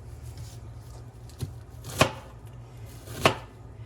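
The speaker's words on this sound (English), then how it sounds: "I'm gonna cut a little onion here" A knife chopping onion on a cutting board: three distinct chops, each sharper than the last. Two of them land clearly about a second apart, over a quiet background hum.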